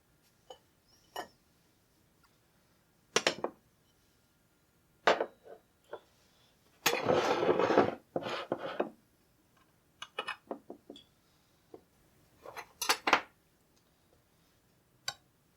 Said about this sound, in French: il suffit de prendre une fourchette et de piquer sur tout le pourtour